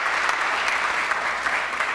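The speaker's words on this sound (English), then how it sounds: "Give yourself a hand clap." A crowd claps for itself at an MLK Unity Day gathering, producing a loud, continuous patter of many hands with no break across the short stretch.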